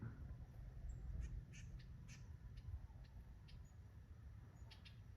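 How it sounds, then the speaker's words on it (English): Crows caw in scattered, fairly faint bursts around a snake, several birds calling at a distance over a steady outdoor rumble. "We got birds everywhere around us."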